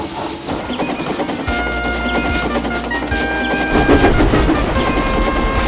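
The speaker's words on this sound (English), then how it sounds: "Gordon's boiler seemed to have swollen larger than ever as his wheels pounded the rails." Gordon, a large steam engine, rushes past on the rails in a loud, close roar of pounding wheels and rattling wagons, with sustained whistle-like tones over a deep rumble that swells toward the end.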